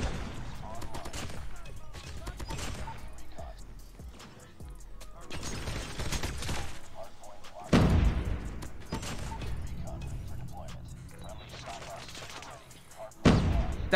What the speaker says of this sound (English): I have ever seen a trip mine explode